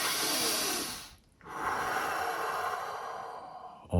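Deep, deliberate breaths drawn to calm anxiety: a long airy exhale, a short silent pause, then another slow, steady breath, close and unhurried, with no other sound.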